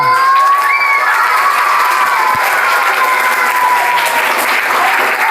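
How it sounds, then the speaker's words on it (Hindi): A school crowd at a magic show breaks into loud sustained applause mixed with children's cheering and shouts, continuous and close throughout. "जोरदार से तालियां।"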